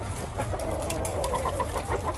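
Gamefowl cluck and chatter at feeding time on a farm as grain is thrown, including a black McRae hen and brown red rooster cross, heard close and continuous with busy background noise.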